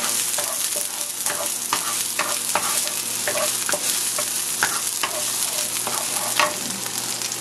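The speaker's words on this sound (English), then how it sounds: "I just added some oil to the pan. Now it should be hot. So let me go ahead and add the shallots." Shallots fry in hot oil in a pan with a loud, continuous sizzle, broken by frequent clicks and scrapes of stirring, close by and with no talking.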